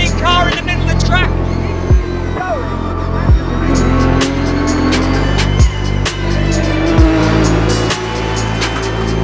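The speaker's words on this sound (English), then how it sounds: "there's a spinning car in the middle of the track" A race car engine drones loudly with pitch sweeps and brief squeals as a car spins in the middle of the track, other cars whooshing past close by, under a commentator's voice.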